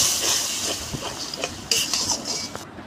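Water poured into a pan of spiced Bombay duck fish curry, a steady hiss and sizzle with light stirring scrapes and clinks from utensils against the pan, close and continuous.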